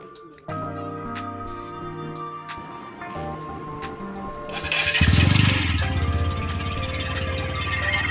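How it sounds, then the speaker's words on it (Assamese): A motorcycle engine starts abruptly and idles steadily nearby, then revs up louder and keeps running as the bike heads off toward a weekly market. "এতিয়া মই মোৰ বাইকখন লৈ ওলাওঁ"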